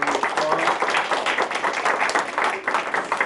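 Audience applause at a school event, a steady wash of many hands clapping for about three seconds, fairly loud and continuous with faint voices mixed in.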